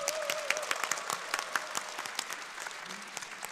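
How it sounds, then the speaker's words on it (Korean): A seated audience at a social welfare policy event claps to celebrate Social Workers' Day, a soft, distant, continuous patter of many hands with sharper individual claps scattered throughout. "사회복지사의 날 다시 한번 여러분들과 함께 박수로 축하하도록 하겠습니다"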